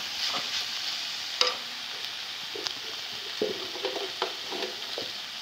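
Moong dal (split green gram) frying in a pan, a steady soft sizzle with occasional scraping stir clicks and spoon taps, close and alone without talk.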